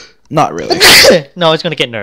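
A single sharp sneeze bursts out in the middle of casual conversation during a card game discussion, with people talking just before and after it.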